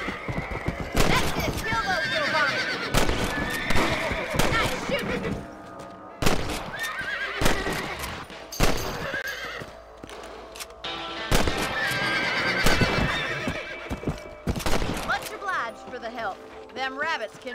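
Video game horses in Red Dead Redemption: Undead Nightmare neigh and whinny repeatedly over clip-clopping hooves and sharp cracks, with voices talking throughout.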